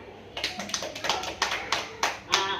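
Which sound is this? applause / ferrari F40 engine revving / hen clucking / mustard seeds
applause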